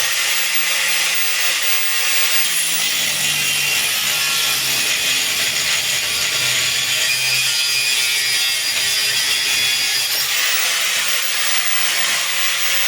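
An old homemade angle grinder, over fifteen years old, runs and cuts through metal with a steady, loud high-pitched grinding hiss that continues without a break for the whole stretch.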